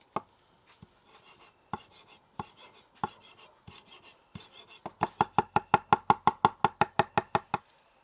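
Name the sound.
knife chopping parsley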